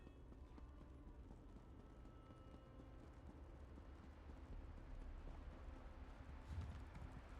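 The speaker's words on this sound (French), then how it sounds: "Arriver avec ton cheval qui avance pas là." Horse hooves trotting in the video game The Elder Scrolls Online, a steady clip-clop rhythm that runs the whole way through, moderately loud over a low game ambience with no talk.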